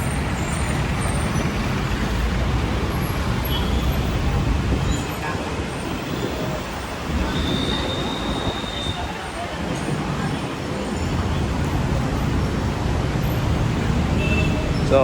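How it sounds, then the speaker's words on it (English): Busy city street traffic in Cebu in the Philippines makes a dense, steady roadway rumble of cars, buses and trucks, with engines droning nearby and a brief high squeal partway through. "here's a view of Cebu traffic."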